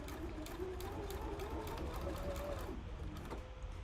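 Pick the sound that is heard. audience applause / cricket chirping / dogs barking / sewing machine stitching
sewing machine stitching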